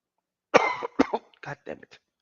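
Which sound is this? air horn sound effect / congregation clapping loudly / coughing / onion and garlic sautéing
coughing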